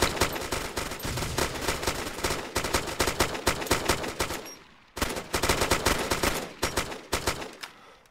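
Sustained bursts of automatic gunfire crackle loudly in a military video game as players shoot at UN troops, rapid rattling volleys running almost nonstop with a brief pause midway.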